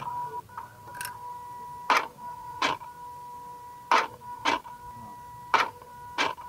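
Mazda RX-8 electronic throttle body with its drive motor running and gears that need lubrication, a steady whine broken by repeated sharp ticking, grinding bursts roughly every second, close up and alone.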